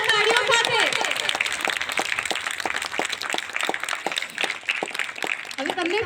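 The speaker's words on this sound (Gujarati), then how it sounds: "પ્લીઝ વેલકમ જોરદાર તાળીઓ સાથે" An audience at a Gujarati film event greets Sudhir Shah with steady, loud applause and rhythmic clapping that carries throughout, while a presenter's voice speaks over it at the start and end.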